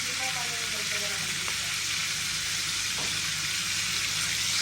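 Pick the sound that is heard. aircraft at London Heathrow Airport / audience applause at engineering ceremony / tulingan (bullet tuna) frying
tulingan (bullet tuna) frying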